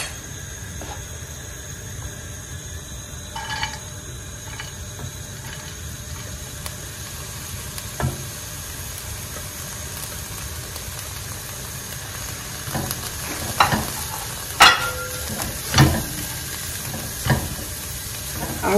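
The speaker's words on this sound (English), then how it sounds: "So I'm going to add just a little bit of walnut oil. This is what I'm using, so just a teaspoon of walnut oil in the pan. It's okay to saute my vegetables." Vegetables sautéing in a teaspoon of walnut oil in a pan give a steady close hiss of sizzling, with sharper crackles and pops growing more frequent toward the end.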